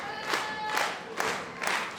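Crowd at a wrestling student showcase match cheers and shouts in rising waves, a steady roar with several louder swells, no clear single voices.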